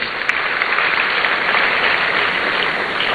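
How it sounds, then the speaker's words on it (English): An audience at a student entrepreneurship and enterprise development programme launch applauds steadily, a dense, even wash of clapping that holds at the same level for the whole stretch. "Let's give him another round of applause."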